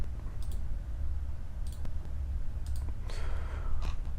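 Sharp computer mouse clicks, about six in an irregular pattern, sound close over a steady low hum during SketchUp 3D modeling work while faces are rotated.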